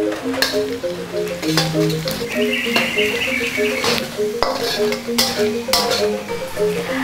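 Red chili paste fries and is stirred in a pan for a sambal with prawns and bitter beans, producing a steady sizzle with frequent scrapes and clinks of utensil on metal. A bright ringing tone runs underneath throughout.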